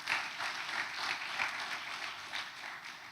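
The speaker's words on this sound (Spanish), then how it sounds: "denle un aplauso al Señor" Sustained applause from a church congregation, steady and fairly loud throughout, with no voices standing out.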